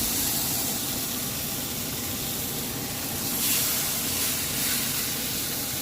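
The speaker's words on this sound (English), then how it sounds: "now I'm going to add my ribs into this pot. And this pan is really, really warm, so it's going to be really noisy" Pork ribs searing in a very hot pan, a loud, steady, close sizzle and hiss that continues unbroken, swelling slightly midway.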